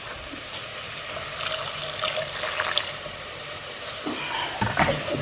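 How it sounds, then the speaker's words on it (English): Chicken stock pours into a pan of lemon chicken curry as a steady liquid splashing and trickling, moderately loud and close, with a few clinks near the end. "so now we want to put the stock in"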